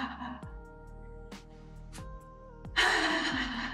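A single long breath out during a 10-minute daily exercise routine for raising core temperature. It comes as a steady, close, breathy rush late in the clip, after quieter tonal background sound.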